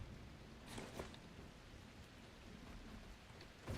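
Rain in the video game The Last Caretaker falls as a soft, steady hiss at low volume, with a few faint louder spatters scattered through.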